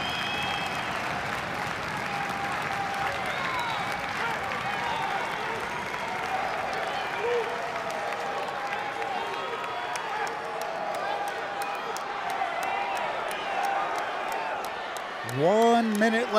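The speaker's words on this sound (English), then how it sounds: "You can hear the crowd really getting into it here" A crowd at a Big Ten heavyweight college wrestling match between Wisconsin and Rutgers roars and cheers continuously in an arena, a sustained wash of noise running under a commentator's voice.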